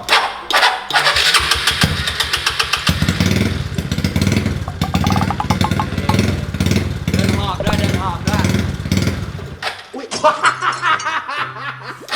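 A motorcycle engine cranks and fires up, then revs in repeated loud bursts, with people laughing and talking nearby.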